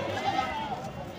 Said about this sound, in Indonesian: ini ada kambing jantan nih